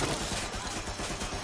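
Rapid automatic gunfire from a gun turret in Watch Dogs Legion, a dense, continuous barrage of loud shots.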